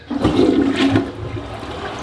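Hotel bathroom toilet flushing up close, a sudden loud rush of water that swells and then trails off into a softer gurgling refill, with no voices.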